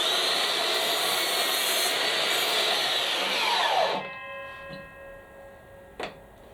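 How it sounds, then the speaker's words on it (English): A Makita DLS111 36V cordless mitre saw cuts through timber with a steady, loud whining rasp. The cut ends abruptly as the blade winds down and its pitch falls away, followed by a couple of faint knocks and one sharp click. "I should probably get used to stopping the blade in the timber rather than bringing it up while it's still spinning"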